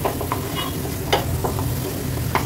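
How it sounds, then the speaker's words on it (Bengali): Spice paste for pabda fish jhal sizzles in a wok while a spoon stirs and scrapes it in quick, sharp strokes. The crackle stays steady and close throughout. "আর একটু মশলাটাকে ভাজা ভাজা করবো।"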